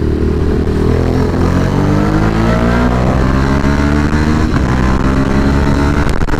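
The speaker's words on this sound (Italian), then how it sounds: "Cioè tra prima e seconda ha fatto una scoppiata" A motorcycle accelerates hard at full throttle, its loud engine rising in pitch through the gears, with a sharp pop near the end.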